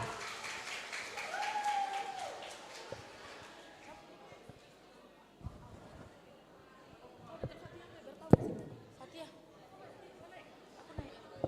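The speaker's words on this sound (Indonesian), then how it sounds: "Beri tepuk tangan yang meriah." An audience at a high school culture event in Palembang applauds ahead of a musical drama, a burst of clapping early on that thins out as voices and chatter continue in the hall.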